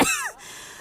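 A single sharp cough close by, fading quickly into quiet room tone.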